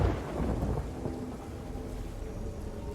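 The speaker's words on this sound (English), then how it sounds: "And it's good to get out of the storm as well." A thunderstorm in the pirate video game Sea of Thieves rumbles with low rolling thunder over steady falling rain, a dense continuous wash of storm noise with no talking.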